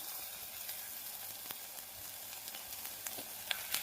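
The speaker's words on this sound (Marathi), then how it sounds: "चटणी घालून 1-2 मिनिटं भाजायचं आहे आपल्याला" Chutney for patvadi roasting in a pan with spice masala, giving a steady soft sizzle throughout, dotted with a few faint clicks of stirring, quiet and close with no talking.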